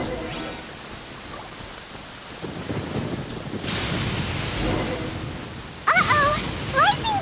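Thunderstorm in the video game Genshin Impact: steady hissing rain with a low rumbling roll of thunder that swells midway, followed by bright chiming game effects near the end.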